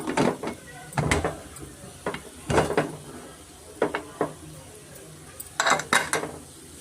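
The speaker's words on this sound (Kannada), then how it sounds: "cooker gasket ಮುಚ್ಕೊಂಬಿಡೋಣ" Metal cooker lid with its gasket clanks and clicks shut in a kitchen while mutton sambar is cooked, a series of sharp knocks and scrapes with short pauses between, close by, no talk.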